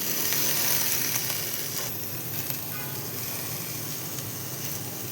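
Washed cluster beans (gavar) are sautéed in a hot pan with turmeric and peanuts, making a continuous, dense sizzle that stays fairly loud throughout.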